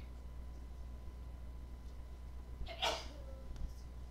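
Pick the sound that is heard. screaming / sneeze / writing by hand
sneeze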